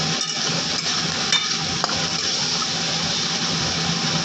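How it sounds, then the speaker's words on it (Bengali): Bitter gourd fries slowly in an uncovered pan, making a soft, continuous sizzle with no talking. "উচ্ছে ভাজা কিন্তু আস্তে আস্তে ভাজলেই ভালো লাগে, ক্রিস্পি করে ভাজতে হবে।"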